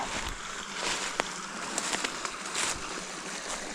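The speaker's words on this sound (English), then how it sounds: "Oh, we got this tiny little creek." A tiny unnamed creek runs over bedrock on a valley floor, with a steady close splashing trickle and scattered small drips and gurgles throughout.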